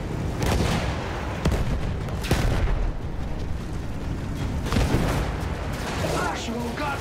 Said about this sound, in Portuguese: Artilharia!